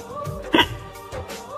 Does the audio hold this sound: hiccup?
yes